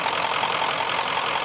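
A car engine idles steadily after a coolant refill of the cooling system, a loud, close, continuous mechanical drone with a faint knocking texture and no speech over it.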